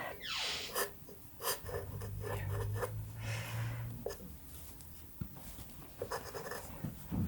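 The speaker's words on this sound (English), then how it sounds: "Now we continue drawing." A pencil scratches across paper while cross-hatching a portrait drawing in the manner of Rembrandt, soft rhythmic strokes up close, with low breathing and faint background noise.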